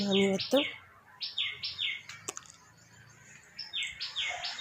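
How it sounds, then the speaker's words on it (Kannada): Small birds chirp near a house by a pongamia tree in quick repeated bursts of high whistled notes, pausing briefly and resuming, with a faint background hum. "ನಮ್ಮ ಮನೆ ಹತ್ರ ಪಕ್ಷಿಗಳೆಲ್ಲ ಸೌಂಡ್ ಮಾಡ್ತಾಯಿದ್ದಾವೆ"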